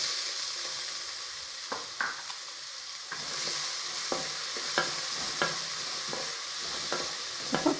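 Chopped onion frying in a pan as a spatula stirs it, a continuous loud sizzle broken by a series of sharp scraping clicks, with no voices.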